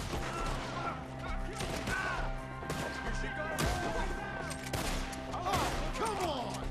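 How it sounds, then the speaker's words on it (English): Rapid bursts of gunfire from a Red Dead Redemption 2 shootout crackle and crash in quick irregular volleys, layered over a busy game soundscape with no clear speech. "Shoot the ones up there first!"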